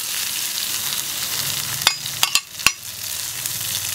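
Chili peppers stir-fried in a wok alongside fermented black beans, a steady hiss of frying with a few sharp scraping clicks of the spatula near the middle, close and fairly loud, no talking.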